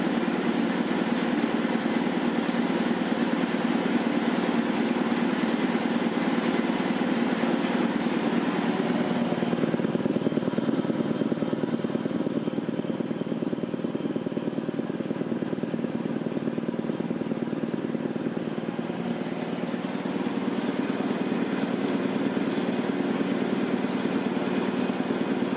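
A 1960s Quincy 230-32 air compressor driven by a 3hp Dayton Dyna motor runs continuously, a loud, steady mechanical drone with a rapid pumping pulse, close by and unchanging throughout.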